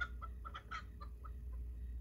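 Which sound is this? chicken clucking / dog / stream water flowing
chicken clucking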